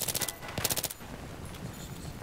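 Rapid automatic gunfire from a fast-firing weapon in Battlefield 3, a burst of quick shots then a second burst, fairly loud, followed by a quieter stretch of game ambience.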